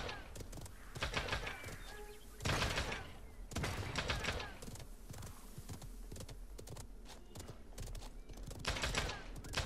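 Bursts of gunfire from the online battle royale game Realm Royale crackle repeatedly across the stretch, some sharp and loud and others scattered and distant, with a voice talking intermittently over the shots.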